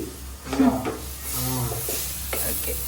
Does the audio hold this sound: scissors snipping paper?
no